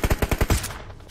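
Rapid automatic gunfire in a video game mission: about six sharp, evenly spaced shots in a quick burst, followed by a short fading echo, with no voices.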